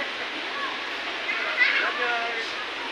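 Steady broadband rush of muddy water flowing at Wawa Dam, constant and fairly loud throughout, with no distinct splashes standing out.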